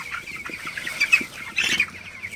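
Twenty-day-old broiler chickens spread across a poultry shed at night under white bulbs, clucking in short, overlapping bursts at close range, with a couple of louder calls standing out.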